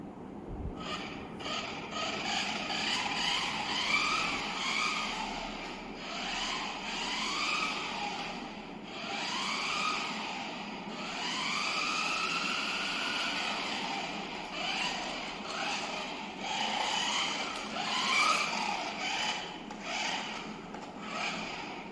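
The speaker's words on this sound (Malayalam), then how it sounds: "നമുക്കാദ്യം നോർമൽ മോഡ് ഇട്ടിട്ടൊന്ന് ഓടിക്കട്ടെ" A toy remote-control car runs in normal mode, its small electric motor giving a steady, close whine that rises and falls in pitch as it speeds up and slows, over a faint rubbing of wheels.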